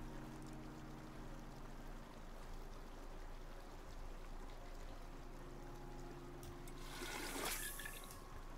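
Water pours into a container in the survival game Icarus. A quiet, steady liquid wash lies over a low hum and swells into a brief, brighter splash near the end.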